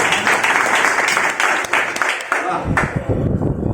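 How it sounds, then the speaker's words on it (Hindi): Applause from an audience for a young girl after her performance at an Independence Day event, a dense burst of clapping that thins out near the end as a voice begins to speak. "बच्ची के लिए जोरदार ताली होनी चाहिए।"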